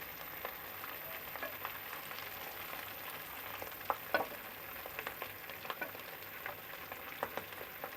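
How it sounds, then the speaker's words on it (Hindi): Lentil (daal) kebabs fry in a pan with a quiet, steady sizzle broken by scattered pops and crackles, heard close and alone. "दाल के कबाब फ्राई हो चुके हैं।"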